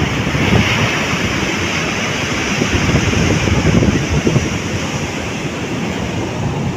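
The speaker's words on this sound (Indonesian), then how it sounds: "ombak juga lagi besar gini." Big ocean waves surging onto a beach, a loud continuous roar of surf with heavy wind buffeting the microphone and no voices.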